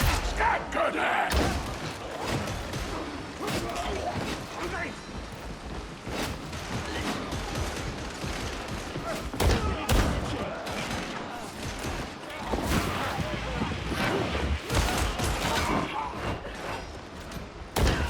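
Enemy scab gunner fire in Warhammer 40,000: Darktide comes as dense bursts of sharp shots and thuds throughout, mixed with crashes and impacts and overlapped by game voices and talking.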